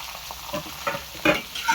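Skin-on chicken pieces fry in a hot pan, giving a close, loud sizzle with bursts of crackling and spattering and no voices.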